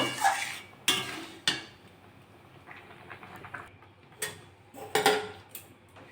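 A metal wok for mung dal with fish head is handled on a stove, giving several sharp, close metallic clanks spread apart with quieter rattles between them.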